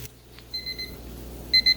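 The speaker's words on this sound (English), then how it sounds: "Timer's going off for the chickpeas." A kitchen timer beeps in short, high electronic bursts, a couple of brief tones followed by a quicker repeated pair, loud and close, while chickpeas cook.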